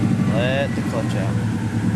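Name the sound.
Subaru WRX engine and drivetrain running in first gear, clutch released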